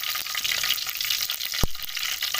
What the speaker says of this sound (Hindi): तो बिगाड़ बनाने के लिए मैंने आधा कप लिया है ऑयल का, गर्म हो चुका है। इसके अंदर मैं कुछ खड़े मसाले ऐड करूँगी।